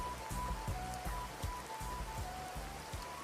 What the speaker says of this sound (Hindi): लगता नहीं अभी बारिश रुकेगी